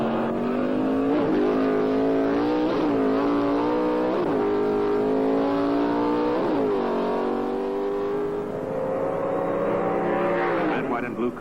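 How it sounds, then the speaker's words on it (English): Pro Stock drag race between two all-Hemi Plymouth Dusters, engines roaring loud and steady with rising revs and several gear shifts, a sustained high-pitched blare throughout. "the Pro Stock Eliminator Final saw Arlen Banky racing Sutton Martin in an all-Hemi Duster contest."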